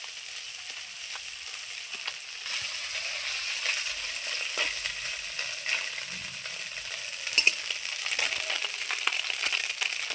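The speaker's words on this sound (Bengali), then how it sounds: "এই দেখুন আমার ময়া মাছটা খুব সুন্দর ভাজা হয়ে গেছে" Moya fish fry in a pan with a steady close sizzle and crackle, bright and even throughout, and a few slightly louder pops near the end, with no voices.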